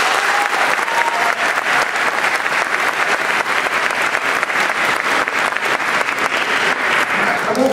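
Dense, sustained audience applause fills the hall after an intermediate-level youth orchestra concert at Interlochen, loud and steady for the whole stretch with no talk over it.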